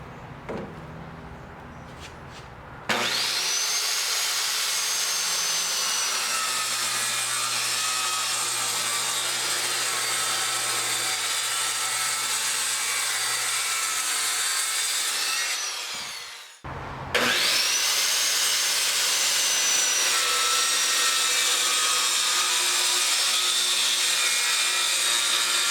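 Power saw cutting a wooden triangle for a backpack hanger, a loud sustained whining cut running about thirteen seconds, a brief pause as the blade spins down, then a second steady cut, close and alone without talking.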